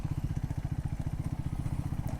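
A Triumph Scrambler 400X motorcycle engine runs while riding, with a loud, close, rapid pulsing thump at a steady rhythm.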